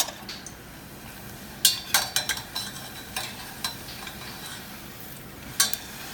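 Tortillas frying in oil in a saucepan, a soft continuous sizzle beneath scattered sharp clinks and taps of a utensil against the pan.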